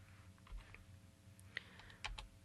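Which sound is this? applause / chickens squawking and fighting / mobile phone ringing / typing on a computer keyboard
typing on a computer keyboard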